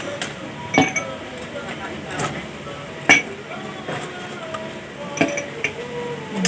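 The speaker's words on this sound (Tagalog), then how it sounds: "Fill the glass with ice." Ice cubes drop into a cocktail glass for a Cuban Screwdriver, a few sharp separate clinks spaced apart at close range, with faint room sound between them.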